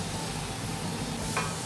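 Garlic taken from the marinade sizzles steadily in a caldereta pot, a close, even hiss of frying with faint stirring and no talk.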